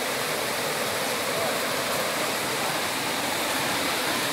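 Water rushing through a small farm irrigation ditch that diverts overflow near an old mill: a steady, dense, close-up gushing roar that never lets up, with no voices.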